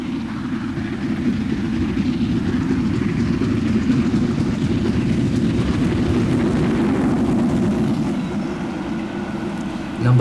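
An express steam train thunders along, a loud, continuous low rumble and roar of the engine and rolling carriages that holds steady for about ten seconds before easing slightly at the end.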